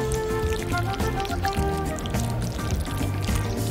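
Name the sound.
water rinsing through a comb-and-rinse hair device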